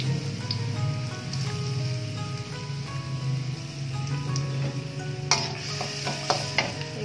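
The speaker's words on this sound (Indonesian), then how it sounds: "Ini bawang putihnya kita onseng dulu." Garlic sizzles in a little oil in a home wok, a steady crackling fry with scraping stirs and sharp metallic clinks of the spatula against the pan near the end.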